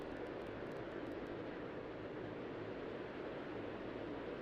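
Airliner taking off in the Tower!3D Pro airport simulator, a steady broadband engine roar, moderately distant and constant throughout.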